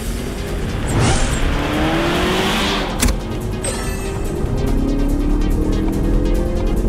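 A Mazda Atenza with a naturally aspirated engine and six-speed automatic drives along an elevated city highway in Guangzhou, its engine note rising and falling steadily through gear changes over constant road and tire roar, loud and close throughout.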